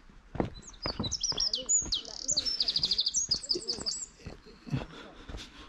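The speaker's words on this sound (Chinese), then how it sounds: "小鸟叫的那个声音叽叽喳喳的" Small birds chirp and twitter in quick bright bursts beside a natural wetland lake deep in a forest, with a rapid trilling run in the middle, scattered sharp knocks and a few faint voices underneath.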